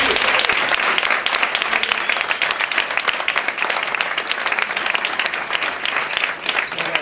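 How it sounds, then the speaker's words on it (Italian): Loud, dense applause rises from the audience at a cartoon cover band gathering, a fluttering mass of clapping that continues without pause. "Un applauso."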